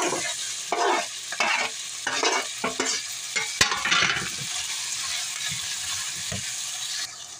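Pork with tomatoes sautéing in a pan, bursts of stirring scrapes and clatter over a continuous moderate sizzle, with one sharp knock midway.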